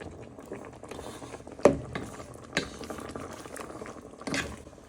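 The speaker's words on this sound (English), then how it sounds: "Give that all a good stir in, so it gives flavour to the pan" Moroccan chicken sauce is stirred in a pan with a steady wet bubbling and sizzling, broken by a few soft knocks and scrapes of the spoon against the pan.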